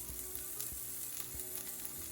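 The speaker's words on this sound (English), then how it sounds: "And we'll saute for another minute or two." Ginger, garlic and green chili sautéing in an oil pan for vegetable spring rolls, a steady close sizzle with small crackles and occasional stirring bumps, no talking.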